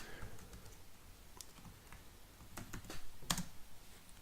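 Keys clatter on a computer keyboard during word-processor typing, a quiet run of light clicks with a few sharper taps and one louder strike near the end, with no voices.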